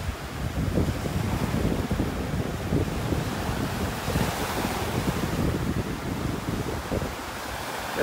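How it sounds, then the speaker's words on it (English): Continuous roar of Gulf of Mexico surf on a beach in North Naples, Florida, on a breezy morning, with heavy wind buffeting the microphone and masking the rolling waves throughout. "Pretty breezy out here this morning, a lot of wind noise, nothing I can do about that."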